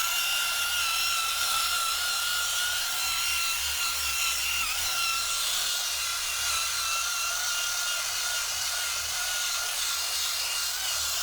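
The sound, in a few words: drill with bristle brush scrubbing van seat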